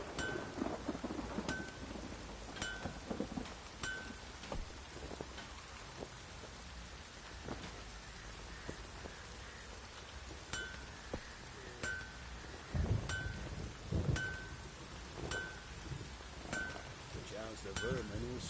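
Rainstorm with thunder in The Witcher 3 video game: heavy rain pours steadily with low rumbles of thunder, periodic clinking taps and a louder crash near the middle, while voices speak over it.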